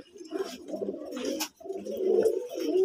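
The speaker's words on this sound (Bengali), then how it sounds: "অনেক এগুলা অনেক কবুতর আছে" Pigeons at a loft coo in soft, rolling low phrases, several overlapping calls close by with a brief pause midway, fairly quiet and without talk.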